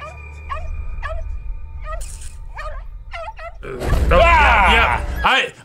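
A dog barks in an episode of the animated series Castlevania, with a run of short, evenly spaced yelps and barks, followed by a loud, dense burst of growling noise.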